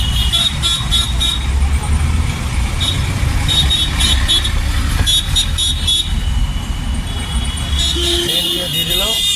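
A car driving through Kolkata traffic with a learner at the wheel, a steady broadband road rumble throughout, short horn toots scattered across it, and an instructor's voice talking over the noise near the end.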